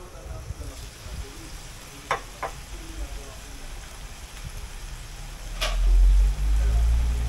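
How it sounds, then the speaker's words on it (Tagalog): Chicken pochero broth boils in a pot with a steady bubbling, sizzling hiss, punctuated by a few brief clicks and swelling into a louder, low rumbling surge near the end. "ayan na siya, kumukulo na"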